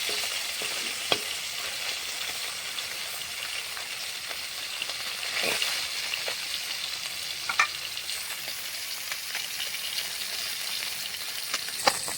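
Bata fish sizzle in mustard oil in a wok as the second side fries, a continuous close hiss broken by scattered pops and soft utensil taps, with no talking.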